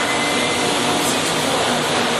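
A 27.5-inch by 144-inch Monarch engine lathe turning at 361 RPM gives a steady, broad whir with a low machine hum that holds level throughout, with no talk over it.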